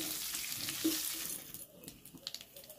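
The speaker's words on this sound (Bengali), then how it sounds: "গোটা জিরে দিয়ে ফোড়নটাকে সুন্দর করে নেড়ে চেড়ে একটু লাল করে ভাজতে হবে" Whole cumin seeds tempering in hot oil for an aloo dopiaza, giving a steady close sizzle with a few stirring scrapes and light clinks. The frying fades toward the end and leaves brief scraping taps.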